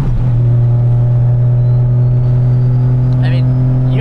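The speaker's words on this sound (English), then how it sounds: "it's not a straight six unless it's got an open gate on it" An RB straight-six engine in a gutted Nissan 280Z with an open wastegate idles with a steady, deep droning hum, close and loud, with a faint whistle near the end.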